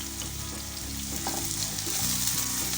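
Sliced onion, garlic and green chillies sizzle and crackle in hot oil in a pan, a steady close frying hiss with occasional stirring scrapes and no talk.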